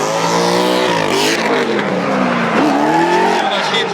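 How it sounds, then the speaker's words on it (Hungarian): A Ford Mustang race car's big V8 roars loudly on track during a warm-up lap, its pitch rising and falling through gear changes with tire squeal mixed in, and commentary is heard over it. "A nagy 750-es V8-asnak van egy egészen különleges hangja"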